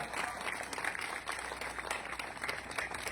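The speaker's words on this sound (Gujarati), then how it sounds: "હવે તાળીઓ પાડો" An audience at a community donation event for a society building in Lunawada, Mahisagar claps in a continuous burst of applause, heard faintly from a distance.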